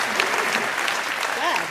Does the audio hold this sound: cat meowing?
no